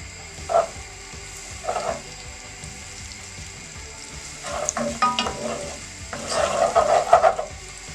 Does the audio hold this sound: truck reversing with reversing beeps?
no